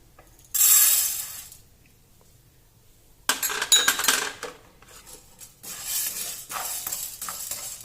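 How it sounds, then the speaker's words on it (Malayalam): Urad dal is tossed in a pan for dry roasting, making loud rattling, clinking bursts of hard grains against metal, separated by quiet pauses and followed by steadier stirring rattles. "ഇനി നമുക്ക് ഈ ഉഴുന്നിനെ വറുത്തെടുക്കാം."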